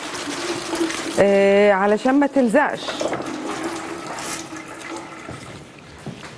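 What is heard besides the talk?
water poured to soak crumpled butter paper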